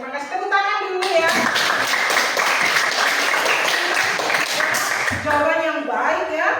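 Junior high school students in a classroom clap together in a loud, close burst lasting about four seconds, with a teacher's voice just before and after.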